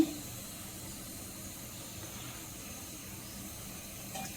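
Steady, quiet hiss of oil sizzling in a pan while frying eggplant, continuous and even throughout, with no voices.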